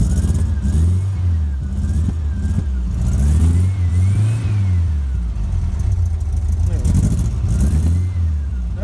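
A 1963 rag top car's cold engine revs up and down in repeated swells, loud and close, with rising and falling whine over a steady rumble.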